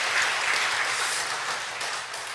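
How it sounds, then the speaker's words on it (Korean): Warm, steady applause from a church congregation during an afternoon service for the Angelos vocal ensemble, a dense wash of clapping that tapers slightly toward the end. "우리 앙겔로스 중창단을 위해서 뜨거운 격려의 박수를 다시 한번 부탁을 드리겠습니다."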